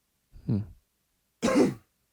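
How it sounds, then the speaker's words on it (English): Two short, rough coughs or throat-clearing bursts, close by, separated by a second of silence. "sorry about that cough."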